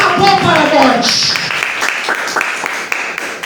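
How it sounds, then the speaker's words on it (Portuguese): A church congregation breaks into applause, a dense run of clapping that builds as a voice fades out at the start, then carries on steadily and fairly loud. "Dá uma salva de palmas."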